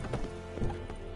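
Roach the horse galloping in The Witcher 3, with hooves pounding in a quick steady clip-clop rhythm, close and continuous, with a faint whinny in the background.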